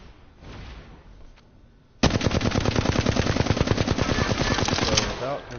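An automatic heavy-ammo gun in the Apex Legends video game fires one long, loud, rapid burst at close range, with evenly spaced shots and quieter sounds and some talk before it.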